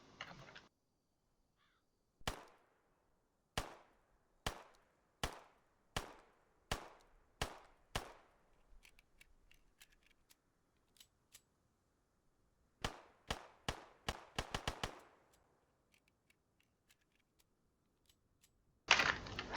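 TT33 pistol fired in the Arma 3 game with the IFA3 mod, a run of about a dozen sharp, evenly spaced single shots, then a quick burst of eight more after a pause, loud and close with no talking.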